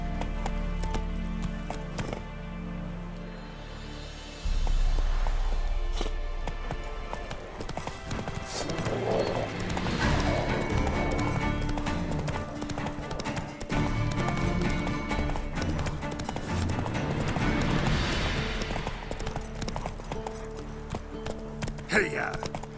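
Roach, the horse in The Witcher 3 video game, gallops with a steady, close clip-clop of hooves that runs throughout, mixed with game ambience and what may be voices.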